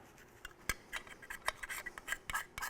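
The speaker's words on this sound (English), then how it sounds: "I've gone to using a flat blade screwdriver with a small narrow blade on it" Small narrow flat-blade screwdriver scraping at carburetor ports, a quick series of sharp metallic rasps and scratches in uneven rhythm, close and fairly quiet with no talking.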